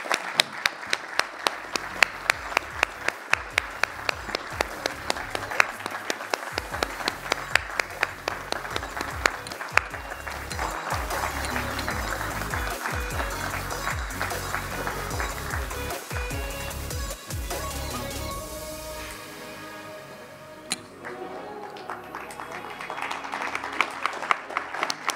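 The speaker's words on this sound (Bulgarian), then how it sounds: "Моля ви, страшно много големи аплодисменти за Иван Гогов." A large audience at a national sports awards ceremony gives sustained applause, dense clapping with sharp individual claps standing out, swelling and dipping briefly before continuing strongly.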